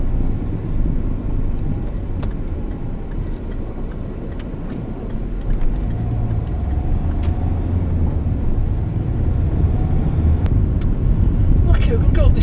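Citroen C4 Grand Picasso driving over a bumpy, rough road surface, with steady cabin road and engine rumble, occasional knocks and rattles, and wind noise throughout.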